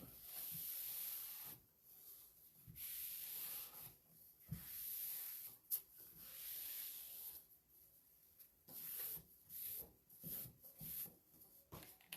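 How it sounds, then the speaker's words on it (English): A baby wipe rubs over a sanded sled-and-snowman calendar craft piece to clear away grit, making soft, close strokes in uneven bursts separated by brief pauses, with no talking. "I'm going to take a baby wipe and kind of wipe it off"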